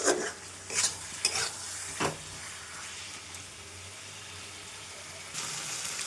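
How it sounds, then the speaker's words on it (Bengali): Mutton masala with potatoes sautéed in a pan after hot water is added, a bubbling sizzle broken by several distinct scraping stirs of a spatula, close and fairly loud. "গরম জলটা দেবো আর একটু কষবো"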